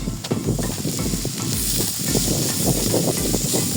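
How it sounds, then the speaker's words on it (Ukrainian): Steady, loud sizzling of onions frying in a pan, a continuous crackling hiss with small pops throughout. "Цибулька жариться"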